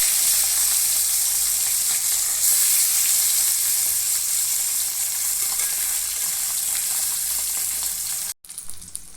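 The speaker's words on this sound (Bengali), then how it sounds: "মাছে নুন হলুদ মেখে নিয়েছি, এবার মাছগুলো ভেজে নিচ্ছি।" Nadosh fish rubbed with salt and turmeric fry in hot mustard oil in a wok, a loud, steady hiss and crackle that holds for several seconds before cutting off abruptly near the end.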